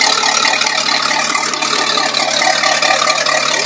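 A 2003 Chaparral 240 Signature cruiser boat engine revs in gear in a steady, rattling drone, loud and continuous, with a rough whirring texture and no voices.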